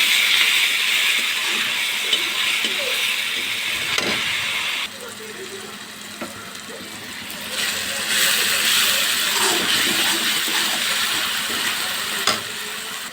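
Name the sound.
ginger, garlic and onion paste frying in hot oil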